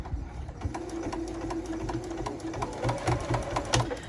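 Sewing machine top stitching a quilted mug rug, a steady close mechanical whirr with a fast rhythmic needle chatter that runs without a break.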